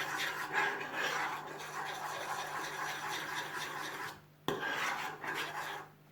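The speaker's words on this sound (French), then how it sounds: "C'est important de bien mélanger pour bien que les levures se délayent dans la bière." Continuous scraping and rubbing of a utensil stirring yeast into beer in a bowl for pizza dough, close and fairly quiet, with a brief clink partway through.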